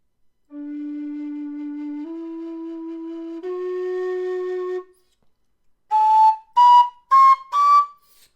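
Narrow bore Carbony low D whistle playing in its second octave: three long, steady, pure notes stepping upward, then four shorter tongued notes climbing in pitch, clear and close with no talk.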